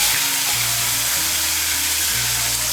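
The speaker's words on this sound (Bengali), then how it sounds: "ফোড়নটা দিয়ে একটু নাড়াচাড়া করে নিয়ে এর মধ্যে আমি দিয়ে দেব একটা ছোট সাইজের টমেটো কুচি।" Chopped tomato dropped into hot oil tempering with green chilli, giving a loud, continuous close hiss and sizzle that holds steady throughout, no voices.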